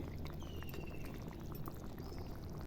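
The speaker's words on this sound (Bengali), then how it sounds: "এবার আমি মাছগুলো ছেড়ে দিচ্ছি আবার একটু নেড়ে দিচ্ছি ঝোলটা আর একটু ফুটবে" Aar fish tel jhal gravy simmers in a pot while it is stirred, a faint, steady bubbling with soft liquid gurgles and no voices.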